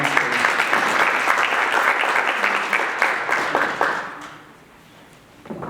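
Audience applause for a speaker at a women in mining event, a dense steady clapping from a crowd that fades out near the end.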